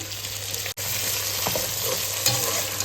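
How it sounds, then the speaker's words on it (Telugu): Masala with ginger-garlic paste, tomato, coriander and mint fries in a pan for coconut rice, giving a loud, continuous close sizzle with stirring that cuts out briefly once. "ఈ మసాలా పచ్చివాసన పోయే వరకు బాగా వేగనివ్వాలి"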